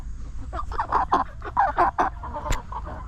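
Meat chickens, three-month-old birds in a flock of 100, clucking close by in a quick string of soft, throaty calls with brief gaps between them.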